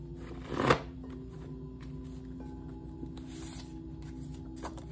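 Tarot cards being shuffled by hand: one short papery riffle burst near the start, then only a faint room hush with a few soft card taps.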